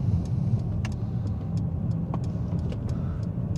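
Car turning left at the first exit of a roundabout during a driving test in Glasgow, a steady low engine and road hum with light cabin clicks and ticks above it, no voices.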